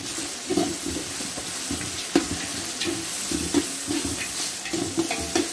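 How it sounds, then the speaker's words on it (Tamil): Fatty mutton and bone pieces fry in oil for thalcha, a continuous close sizzle broken by repeated scraping knocks as a spoon stirs the pan, with no one talking. "நல்லா அந்த கொழுப்பு கறி எலும்பு கறியெல்லாம் நல்லா எண்ணெயில் வதங்கட்டும்."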